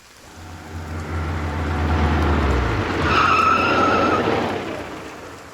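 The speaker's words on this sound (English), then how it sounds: "A black Mustang sports car, like an out-of-control beast, covered in mud spots and scratches, rampages to a stop by the roadside, splashing up a massive spray of water." A black Mustang sports car, mud-spattered and scratched, skids to a stop on a rain-soaked roadside, its tires hissing and a heavy spray of water rushing up; the engine rumbles first, then a loud wet skid swells and fades, with no talking.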